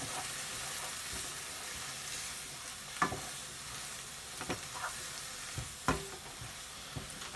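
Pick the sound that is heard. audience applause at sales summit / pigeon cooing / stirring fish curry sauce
stirring fish curry sauce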